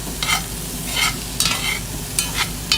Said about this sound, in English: you give it a little stir for me there, Ben?